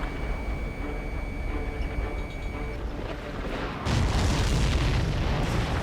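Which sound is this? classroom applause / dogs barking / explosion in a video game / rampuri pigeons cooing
explosion in a video game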